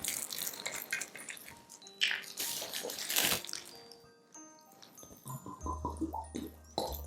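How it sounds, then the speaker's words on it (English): Kahlua liqueur is poured over dried fruits for a Christmas plum cake, a faint trickle and splash with small clinks in an otherwise quiet room. "So I'll start pouring the liquor."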